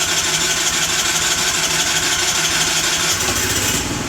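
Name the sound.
car engine cranking, jump-started with Topdon V2200 jump starter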